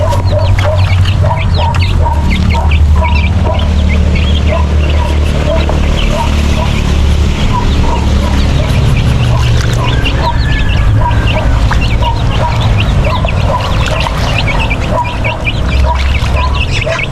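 Chicks and chickens being moved to a new coop cluck and peep busily, with dense, overlapping close calls over a constant background hum, and a person speaking at times.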